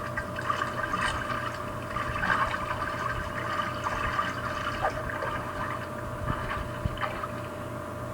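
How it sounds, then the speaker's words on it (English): Urination into a chamber pot by a standing woman in The Sims Medieval, a steady trickling stream of liquid running continuously over a low game background hum, moderate and close. "there's a woman standing up peeing"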